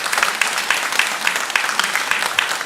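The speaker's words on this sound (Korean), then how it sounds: "박수를 한번 합니다." Loud, close applause from a church congregation during a Sunday service, brisk and continuous for a few seconds with a few sharper claps standing out.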